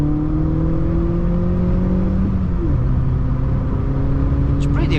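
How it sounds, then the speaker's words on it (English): A Volkswagen Polo 1.4 pulls hard in second gear, its engine droning steadily and rising in pitch before a brief dip, heard from inside the car with loud constant road and engine noise. "Now we'll do a second gear pull."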